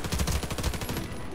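The Cobalt Kinetics Stealth Pistol fires in a video game, a loud rapid string of about ten closely spaced shots that stops abruptly, leaving a short fading tail.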